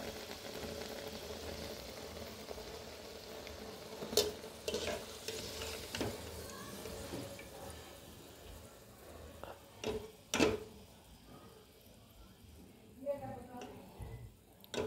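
Puris deep-frying in hot oil for namkeen shengule, a steady soft sizzle with occasional clatters and scrapes, quiet and close.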